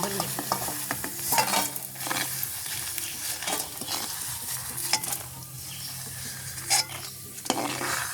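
Chillies and appalam (papadum) frying in hot oil in a pan for a village-style lunch, a steady close sizzle and crackle with occasional stirring scrapes and clinks, no talking.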